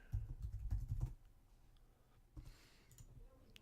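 Typing on a computer keyboard, a quick burst of soft clustered key clicks for about a second, then a few scattered taps after a pause, quiet and close.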